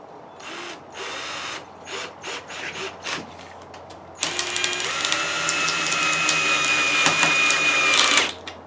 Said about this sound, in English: Let's say here's a thinner board and you're going to put a screw here